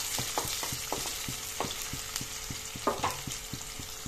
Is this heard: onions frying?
yes